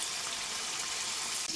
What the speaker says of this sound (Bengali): এবার পনিরগুলো ভেজে নিচ্ছি।